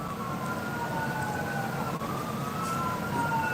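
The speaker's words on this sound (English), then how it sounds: "There's a siren" A fire truck siren wails faintly in the distance, its pitch slowly rising and falling over a steady background hum of traffic.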